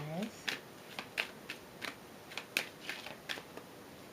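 Oracle cards from a Mother Moon deck are shuffled and drawn in a steady run of soft, evenly spaced snaps and flicks, quiet and close.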